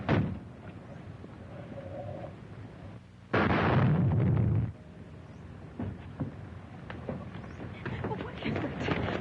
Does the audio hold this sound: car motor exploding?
yes